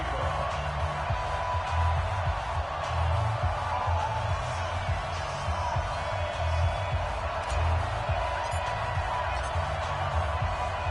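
Stadium crowd in an EA Sports NFL video game, Washington Redskins against the home team, a steady loud roar with low rumbling swells throughout, no distinct cheers standing out.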